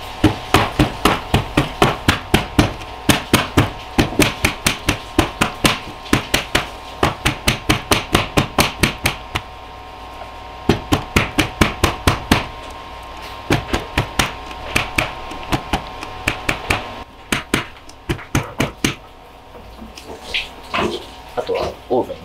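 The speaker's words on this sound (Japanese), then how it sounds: "流し終えたらある程度衝撃を加えて空気を抜いていきます。" A mold filled with Japanese omelet batter is rapped repeatedly on a hard surface to knock out air, producing rapid bursts of sharp, evenly spaced knocks with brief pauses between rounds.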